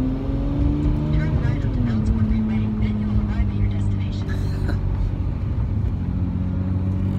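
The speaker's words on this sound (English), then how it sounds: "So I get you guys with the surprise of the Lamborghini ride." Ride inside a Lamborghini Murcielago through Las Vegas, a loud, steady engine drone that rises and falls in pitch with road and wind noise throughout.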